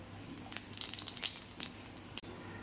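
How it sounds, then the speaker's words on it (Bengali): Whole white cumin seeds are dropped into hot oil, producing a soft, close sizzle with several sharp crackling bursts and spits at irregular intervals. "এই তেলের মধ্যে আমি দিয়ে দেবো সাদা জিরে।"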